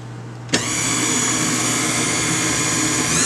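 A stand mixer with a dough hook kneads dinner roll dough. Its motor starts abruptly after a short pause and then runs as a steady, loud whirring hum to the end, with no talking.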